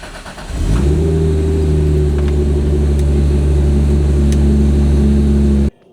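A Toyota Supra engine cranks and catches, then holds a loud, steady rumbling idle with a slight rev for several seconds before cutting off abruptly, close by with no talk.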